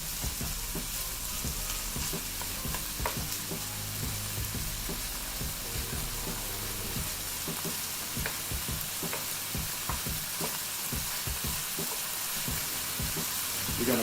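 Pork fat renders and fries in a pan, a steady crackling sizzle with dense little pops and spits running throughout, close up and unbroken by talk.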